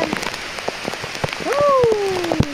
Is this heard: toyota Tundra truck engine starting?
no